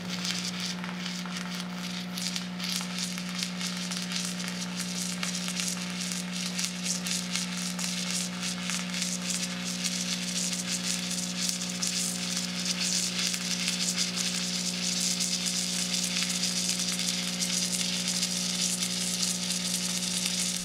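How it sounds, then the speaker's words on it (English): A Miller submerged arc welder runs in CV mode at 32 volts and 90 inches per minute wire feed, giving a steady, close crackling sizzle over a constant electrical hum with no pauses or voices. "I will demonstrate this by welding in CV mode with 90 inches per minute wire feed speed and 32 volts"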